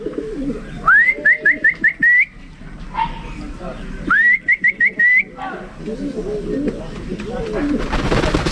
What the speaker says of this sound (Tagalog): Dumidi pa mga kalapatids.